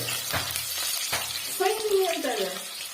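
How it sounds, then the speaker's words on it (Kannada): Onions sizzling as they fry in a pan of oil, a steady hiss running through under a person talking. "ಈಗ ಈರುಳ್ಳಿ ಹಾಕೊಂಡಿದೀವಿ ಫ್ರೆಂಡ್ಸ್. ನೋಡಿ ಸೌಂಡ್ ಎಫೆಕ್ಟ್ ತುಂಬಾ ಚೆನ್ನಾಗಿರ್ತದೆ"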